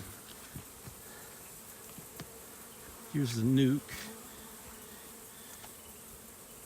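A honey bee swarm being hived into a hive body gives a faint, continuous buzzing drone, with a brief spoken word breaking in near the middle.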